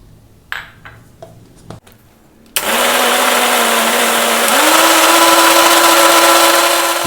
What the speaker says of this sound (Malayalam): ഒരല്പം എണ്ണയോടെ കൊടുത്ത് നമുക്ക് അടിച്ചെടുക്കാം.